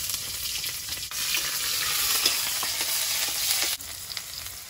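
Onions fry in oil in a pan, making a continuous bright sizzle with occasional stirring scrapes, fairly close and steady, with a brief dip before the crackle resumes.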